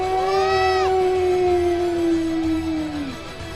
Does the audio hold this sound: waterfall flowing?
no